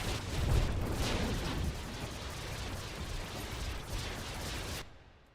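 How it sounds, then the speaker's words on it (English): Harpoon missiles launching in a naval combat game, heard as a sustained heavy roaring rush with a thudding onset, holding steady for several seconds before cutting off abruptly. "There's the harpoon missiles."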